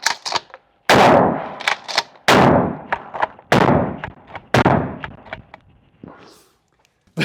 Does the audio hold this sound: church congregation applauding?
no